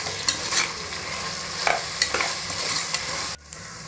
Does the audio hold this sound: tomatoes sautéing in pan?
yes